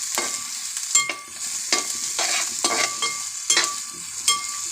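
Curry leaves and green chillies with onion frying for a beef curry, loud crackling sizzle in a pan with repeated stirring scrapes and spatters, close and busy, no talking.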